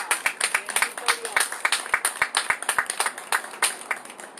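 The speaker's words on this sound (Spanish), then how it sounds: "Dele fuerte el aplauso al Señor" Church congregation clapping rhythmically in worship, brisk close handclaps in a steady fast beat, with voices calling out over the clapping.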